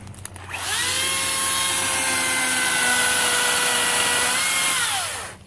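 A Makita professional cordless chainsaw revs up quickly and whines at a steady high pitch while cutting into a tree, sustained loud and close for several seconds before winding down.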